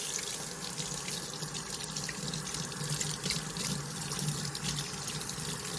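Tap water runs steadily over a cork spawning mop being rinsed in a sink, a continuous close splashing hiss with no voices.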